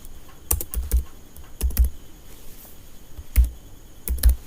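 Typing on a computer keyboard while writing an HTML header, with close, crisp key clicks in short bursts of several strokes separated by brief pauses, with no talking.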